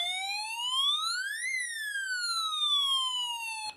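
A Snap Circuits alarm IC gives off an electronic siren tone that sweeps up in pitch and then glides back down, loud and continuous with no other sound.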